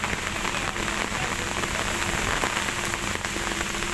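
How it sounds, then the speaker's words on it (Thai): Heavy rain from Typhoon Noru pours steadily in a dense, continuous hiss with pattering drops throughout, loud and close, no voices. "กู้กันท่ามกลางสายฝนครับ"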